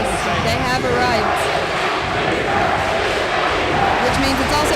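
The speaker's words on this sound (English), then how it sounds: "there goes the crowd" High school varsity basketball crowd, Jacksonville versus Fort Payne, filling a gym with a steady dense roar of cheering and shouting that holds constant throughout.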